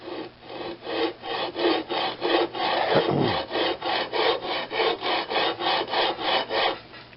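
A Briggs primer plate is rubbed flat on 80-grit sandpaper laid over heavy quarter-inch steel flat stock, giving steady, close, loud back-and-forth rasping strokes, about twenty in an even rhythm, with no talking.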